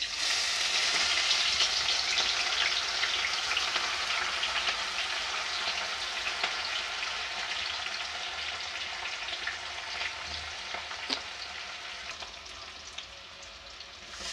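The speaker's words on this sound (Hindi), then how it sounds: "तेल हमारा गर्म हो चुका है, अब हम इसमें डाल देते हैं कटी हुई हरी मिर्च।" Chopped green chillies hit hot mustard oil in a pan, giving a loud, steady, close sizzle and crackle that runs without a break and eases slightly toward the end, with no talking.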